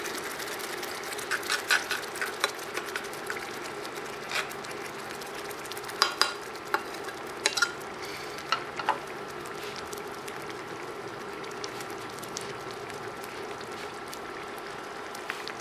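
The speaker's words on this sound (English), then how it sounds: "take our tomatoes, put in our skillet, and let this cook for a few minutes" Tomatoes cooking in a hot skillet while preparing a Northern Italian pasta sauce, giving a quiet steady sizzle with scattered soft crackles and a few louder pops, with no talking.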